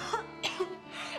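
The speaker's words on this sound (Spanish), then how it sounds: "No me gusta nada, nada esa tos." A single person's cough, two or three harsh bursts close by with a raspy throat-clearing quality over a steady background hum, no talk.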